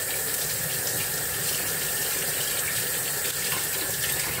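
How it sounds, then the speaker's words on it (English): A kitchen tap runs steadily as oil is washed off a greasy hand, a loud continuous close-up gush of water that stays even from start to finish, with no talking. "Let me wash this oil off my hand."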